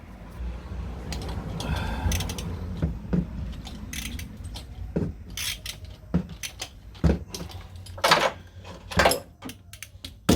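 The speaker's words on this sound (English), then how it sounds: "The claw's working with the ratchet somewhat." Ratchet with a claw-type filter wrench loosening a stubborn oil filter on a Ford Territory, giving sharp metallic clicks and clanks in irregular bursts, closer and louder toward the end.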